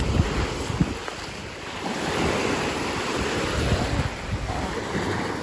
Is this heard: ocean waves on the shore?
yes